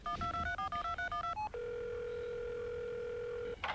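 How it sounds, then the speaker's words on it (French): A call placed by voice assistant on a cellphone, a quick run of dialing tones followed by a single steady outgoing ring tone, heard up close. "Siri, appelle Suzanne"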